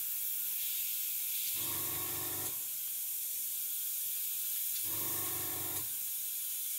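An airbrush sprays paint with a drying tip that causes spatter on a 1/35 scale submarine model. Two short hissing bursts, each about a second long, come close and clear against a quiet room hiss.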